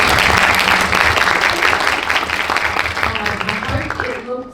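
An audience applauding at a video premiere, dense sustained clapping, loud and close, that thins and fades out toward the end.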